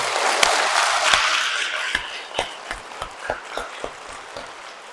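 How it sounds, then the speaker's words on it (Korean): A Catholic congregation at a Mass at a Korean shrine gives a round of thankful applause, dense at first, then thinning into a few scattered, separate claps as it fades. "이 삼위일체 하느님께 감사의 박수 올려드립시다."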